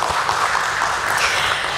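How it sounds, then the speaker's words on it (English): Audience applause at a stock exchange listing ceremony for NMDC Steel Limited, a dense, steady clapping from a crowd filling the whole brief stretch. "Let's once again give a round of applause for NMDC Steel Limited."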